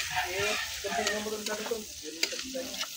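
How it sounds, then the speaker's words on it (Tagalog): Chopped onion sautéing in a pan for native chicken tinola, a steady close sizzle with scraping stir strokes and a few sharp clinks, while a voice murmurs faintly in the background. "Nilagay ko lang yung sibuyas."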